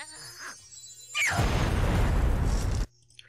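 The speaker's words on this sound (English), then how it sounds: "Small explosion, like I said." A small explosion in the animated series RWBY erupts suddenly as a loud, broad burst of noise that holds for about a second and a half before cutting off abruptly, following quieter sounds at the start.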